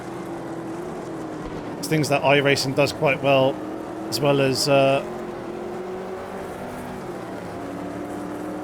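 Racing-car engine in the Automobilista 2 sim, a steady drone running through the whole stretch while someone talks over it.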